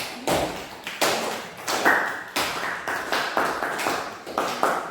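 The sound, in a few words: classroom applause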